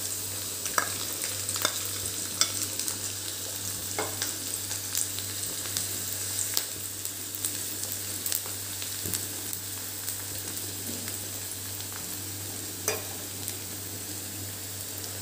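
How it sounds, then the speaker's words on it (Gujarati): One large chopped onion frying over a low gas flame in a pan for Gujarati aloo palak: an even, steady sizzle with occasional sharp ticks of stirring, close and continuous, without talking. "હવે એને લાઇટ બ્રાઉન થાય તે સુધી આપણે સાતડવા દઈશું"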